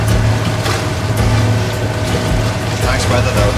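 A sailing boat's engine drives it through windless water with a loud, steady mechanical drone and a rapid rattling churn that holds throughout.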